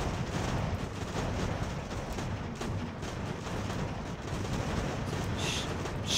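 Massed musket fire from soldiers in an American Revolution battle in Ultimate General, a dense continuous crackle of shots with distant booms, steady and loud throughout.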